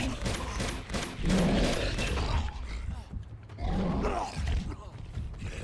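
Gunfire in the video game Uncharted 2, with bursts of shots and crackling impacts in two loud clusters over a steady game background, a voice speaking briefly between them.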